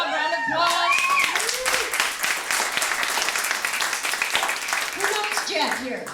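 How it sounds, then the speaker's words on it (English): Comedy show audience clapping and applauding in a small club, steady dense applause over about six seconds with some voices and cheers mixed in at the start and end. "Round of applause."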